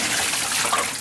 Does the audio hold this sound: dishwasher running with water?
yes